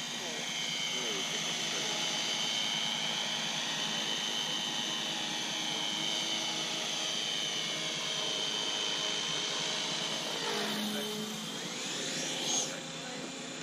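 A Freewing MiG-29 Fulcrum RC jet comes in to land, its ducted-fan whine holding steady and fairly loud, then shifting near the end, with a helicopter also around.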